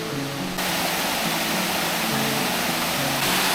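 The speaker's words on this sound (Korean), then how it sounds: "기대 안 했는데 되게 시원하게 생겼네요 폭포가" Constant rushing water roar of a waterfall in Thailand, moderate in size, loud and unbroken, with no voices.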